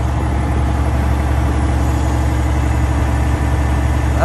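A 2021 Peterbilt 389 truck engine runs steadily at about 1400 RPM under boost, a loud, close, continuous diesel rumble with a low throbbing drone and no pauses.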